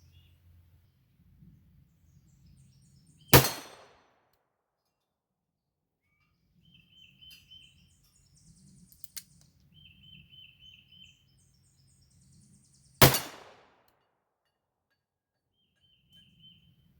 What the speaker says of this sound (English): I'm at the range, about to take the very first shots out of this 629